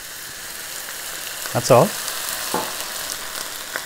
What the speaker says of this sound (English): I want to show you what steam frying is. Turn up the wok, roughly a spoonful of water.